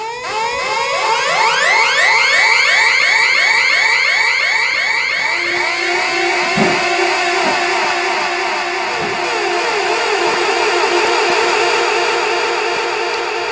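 A loud, aging handmade Swiss dub siren box by Clemens fires rapid rising sweeps that repeat quickly, then settles into a wavering, lower warbling wail with occasional clicks.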